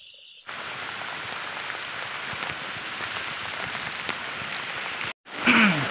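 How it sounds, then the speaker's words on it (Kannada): Steady rain falls in a rural area after a spell of hot sun, a dense, even hiss of drops that starts abruptly and runs on without a break, then cuts out just before the end. "ನಮ್ಮ ಕಡೆಗಂತರೂ ಮಳೆ ಭಾಳ ಆಗದೈತಿ"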